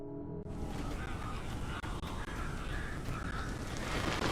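Crows cawing in the video game Alan Wake Remastered on PS5, a dense, harsh, continuous wash of cawing and noise that starts abruptly and stays loud throughout.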